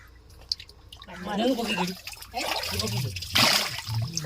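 Water gushes and splashes as a village pond is drained, a steady rushing flow close by, with voices talking over it throughout.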